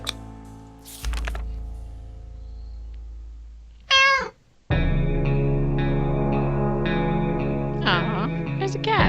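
Cat in the 60 Seconds video game, several processed, echoing meows over a droning electronic background, one sharp bending cry midway followed by repeated shorter mews, with a brief voice underneath.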